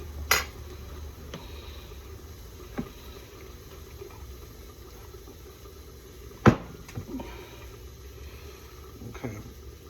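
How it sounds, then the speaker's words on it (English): Corn and carrots stirred in a pot with a utensil, giving a few sharp metallic clinks and scrapes spread out over a quiet background, one louder knock standing out among softer taps. "We're gonna use this to stir the corn and the carrots."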